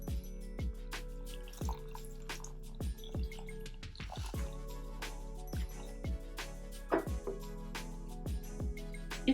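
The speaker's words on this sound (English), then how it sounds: "I'm going to be using and adding some warm to hot distilled water." Warm distilled water is poured into aloe vera gel for a hair conditioner. The sound is a quiet, regular series of wet drips and squelchy plops, close up and unhurried.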